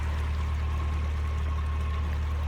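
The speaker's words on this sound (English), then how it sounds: "It's pouring down with rain." Heavy rain pouring down on a canal boat travelling up the Selby Canal, a dense, constant hiss of rainfall over the low, steady drone of the boat's engine.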